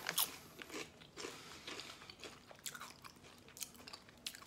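Thin, crisp Wise Honey Butter potato chips crunch between the teeth, giving repeated close crackling bites and chewing in a quiet room with no talking.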